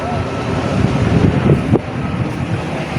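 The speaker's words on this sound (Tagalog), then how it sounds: "grabe lakas ng hangin oh" Strong northeast monsoon wind buffets the microphone with a loud, continuous roar, mixed with the wash of waves nearby along a coast with boats.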